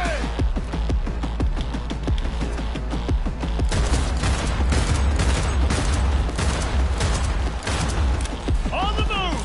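Rapid pistol gunfire in the video game Cyberpunk cracks out in dense bursts throughout, loud and close over booming game effects, with a voice talking intermittently in the mix.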